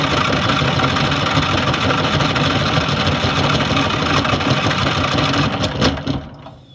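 A racing lawn mower engine runs loud and steady after the throttle is opened, a dense continuous roar that drops off sharply near the end.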